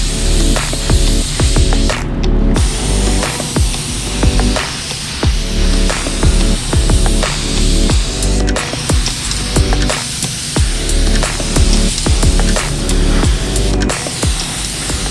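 A spray gun applies epoxy primer to truck bumper caps, giving a steady hissing spray broken by short bursts and pauses as the trigger is worked, with faint tool clatter underneath and no talking.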